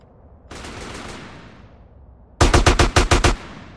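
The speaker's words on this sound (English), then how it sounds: "Yeah, it's a gun." Gunfire in the video game Grand Theft Auto San Andreas: a hissing burst of fire, then a rapid string of about seven loud, sharp shots in quick rhythm.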